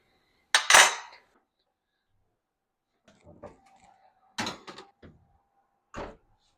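A tray of keto carnitas goes into a kitchen oven, with a sharp metallic clatter of tray and oven door, a scatter of softer handling knocks, then another loud clunk and a final thud as the door shuts.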